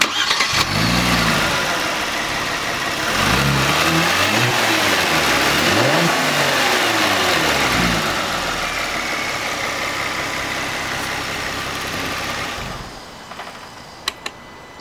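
A Kia Stinger twin-turbo V6 engine with stock intake cranks to life, revs up and down in several throaty bursts, then settles toward a steady idle before quieting near the end.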